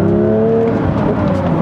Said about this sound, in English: stepping into the throttle a little bit on this gear lever